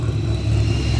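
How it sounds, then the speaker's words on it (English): Toyota Supra fitted with a large turbo, its engine giving a steady, loud low rumble that holds evenly through one second with no break. "Got a Supra though, with a whole lot of turbo."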